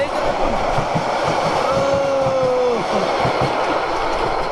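The Cox's Bazar Express, a passenger train bound for Dhaka, rumbles past close by with a steady loud roar of wheels on rails and a brief high squeal partway through, with voices faintly under the din.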